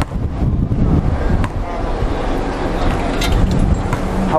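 Strong outdoor wind buffeting the microphone with a constant loud rumble and roar, gusting slightly but never letting up across the whole stretch.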